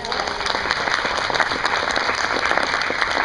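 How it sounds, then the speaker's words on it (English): Audience applause for the gardeners and horticulture staff at the Epcot Flower & Garden Festival, a dense, steady wash of many hands clapping at close range throughout, with a faint voice underneath. "I think we need a round of applause for the gardeners and the horticulture staff at Epcot."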